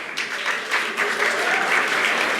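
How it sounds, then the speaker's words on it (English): A seminar audience breaking into applause, a dense burst of clapping that rises and holds steady, fairly loud and close. "First of all, a big round of applause for him."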